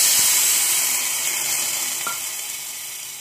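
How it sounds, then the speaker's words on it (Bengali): Vermicelli frying in a pan for payesh sizzles steadily as water is poured in, a loud close hiss that slowly fades, with a faint knock partway through. "দেখো এটা আমি জল দিয়ে দেবো একটু।"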